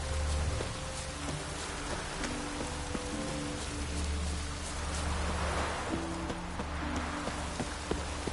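Steady, dense rain pours down in The Witcher 3, a constant close hiss of drops on surfaces with faint patters and taps scattered through it, unbroken throughout.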